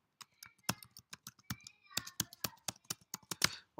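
Rapid irregular keystrokes on a computer keyboard as an IP address is entered, crisp close clicks in bursts over about four seconds with no talking.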